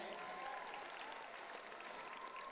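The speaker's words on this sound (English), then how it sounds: "We can clap our hands." A live crowd at a bull-riding rodeo event in Tamworth, Australia claps steadily, a dense, even wash of hand claps lasting throughout with no breaks.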